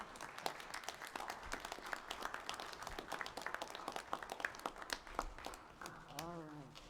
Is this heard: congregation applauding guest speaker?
yes